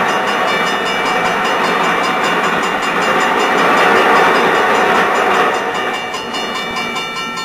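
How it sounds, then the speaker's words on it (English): A train rumbles steadily past at close range, a broad rushing roar with faint rhythmic rattling that swells in the middle and eases slightly toward the end. "There's a train coming."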